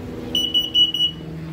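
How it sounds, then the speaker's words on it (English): An LP and carbon monoxide detector in a 2021 Cruiser RV Shadow Cruiser 325BHS bunkhouse trailer sounds a sharp high-pitched alarm, a quick string of four or five loud electronic beeps, close by with no talk. "It does have a working LP detector and carbon monoxide detector in the trailer."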